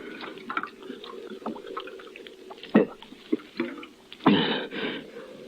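Water is poured for a drink as a radio drama sound effect in an old-time Western, with soft trickling, dripping, and a few sharper splashes, fairly close and without speech.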